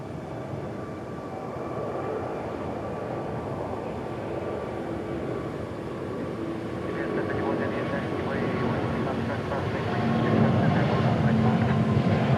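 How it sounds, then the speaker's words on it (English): An airliner at DFW International Airport makes a long, slow takeoff roll at night, a broad steady roar of engines and rumbling that swells gradually louder toward the end, with faint talk underneath. "That felt like the slowest takeoff roll in American history."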